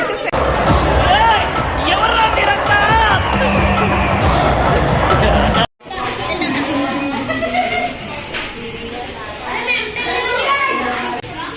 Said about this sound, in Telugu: అందరు గుంపు కట్టేసారు